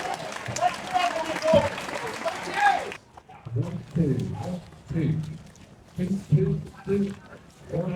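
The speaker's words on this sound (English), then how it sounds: "Let's give a massive round of applause for Simon!" A festival crowd at a live podcast show claps and cheers in a burst of dense applause for about three seconds, then gives way to scattered voices and talk.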